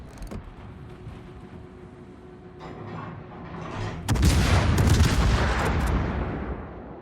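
Naval gunfire striking the cruiser Napoli in a naval battle video game, a quiet rumble that swells into a loud, close burst of booming impacts and rattling shots that keep roaring afterward.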